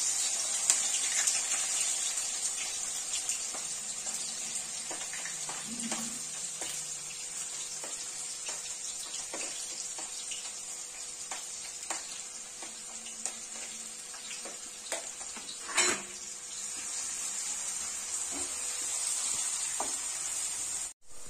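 Chopped onion sizzles in hot oil with cumin, giving a steady, soft, continuous hiss of frying with faint crackles and no talking.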